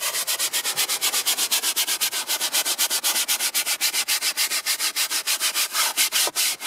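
A brush scrubs a car's interior surface during detailing, fast rhythmic back-and-forth strokes, dozens of even, close, loud swishes in a steady pulse with no talking.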